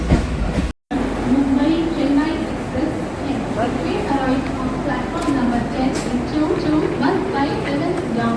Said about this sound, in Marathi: त्या ट्रेनच्या मी आता त्या ट्रेनने प्रवास करणार आहे